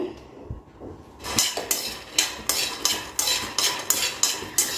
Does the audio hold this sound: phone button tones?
no